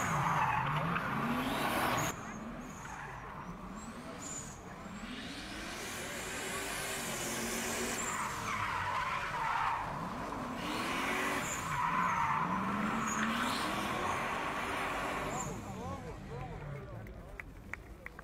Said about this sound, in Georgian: ლევან სვიანაძე გახლავთ სარბოლო მონაკვეთს მეგობრებო ძალიან ლამაზი ავტომობილით